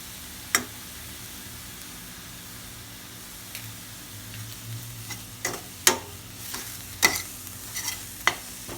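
A scrambled tuna mixture is sautéed in a pan, with a low steady sizzle and a series of sharp spatula scrapes and taps that come more often toward the end, close and clear.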